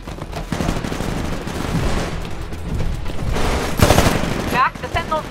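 Rapid automatic gunfire rattles at the jump drive in the Titanfall game, a loud sustained fusillade with a heavier burst near the end, as a voice talks over the shooting.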